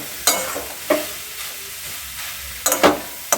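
A spoon stirs a sweet filling of khoya kheer, milk sandesh, cashews and raisins in a pan for patishapta, giving a soft frying hiss under several sharp scraping strokes, close by and without talk.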